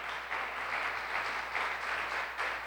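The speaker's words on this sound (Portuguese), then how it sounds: "Aplauda o Senhor," Sustained applause from a church congregation, a continuous mass of clapping with gentle rhythmic swells, over a low steady hum.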